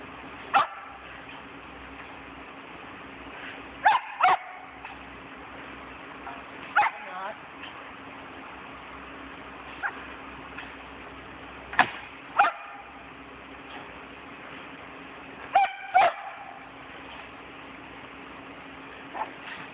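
A Shetland Sheepdog barks in short bursts, a few yips spread across the clip, fairly close against a steady low hum.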